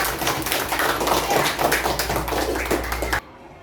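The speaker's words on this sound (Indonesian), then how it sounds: "Beri tepuk tangan untuk kelompok." A group claps together in steady applause for about three seconds, then it stops abruptly.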